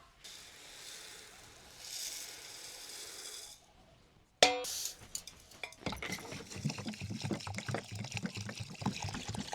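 Water is poured over lentils (dal) being washed for homemade papad. A softer pour comes first, then after a short pause a louder, steady trickling and splashing runs close by.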